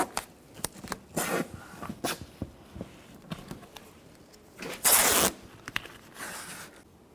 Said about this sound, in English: Tape the window up.